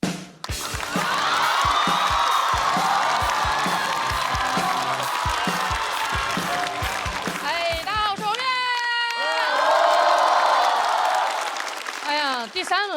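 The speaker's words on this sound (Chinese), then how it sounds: "掌声有请王悦" A studio audience at a stand-up comedy show applauds and cheers loudly for a comedian coming on stage. The noise then fades as a voice begins speaking over the last of the crowd.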